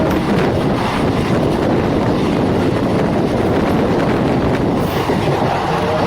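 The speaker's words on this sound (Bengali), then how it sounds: "আমরা এখন বিধাননগর রোড স্টেশন ঢুকছি" Local train running from Sealdah towards Dankuni, a loud steady rumble and roar of the moving carriages with wind buffeting, heard from on board without any voices.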